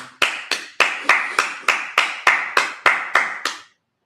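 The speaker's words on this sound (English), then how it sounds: "Clap it up." A congregation at a Sabbath service claps hands in eleven sharp, evenly spaced beats, loud and close, then stops.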